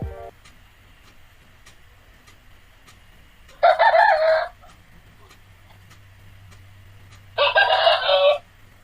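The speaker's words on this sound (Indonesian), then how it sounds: "Berikut adalah suara ayam jantan setelah dilakukannya noise reduction" A rooster crows twice, several seconds apart, loud and clear against a quiet, noise-reduced background with faint ticking.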